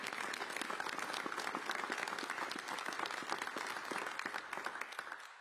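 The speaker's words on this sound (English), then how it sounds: "Yes, an applause for that." Audience applause at a New York City mayoral labor announcement, a dense, even burst of clapping from a sizable crowd that holds steady, then fades out at the end.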